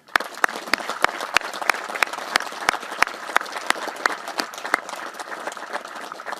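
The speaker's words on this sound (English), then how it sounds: "please, join me in a round of applause for the band, the Color Guard, and the Salute Battery" An audience at a military change of command ceremony claps for the band, Color Guard and Salute Battery, with a steady patter of individual claps that thins slightly toward the end, heard alone without talk.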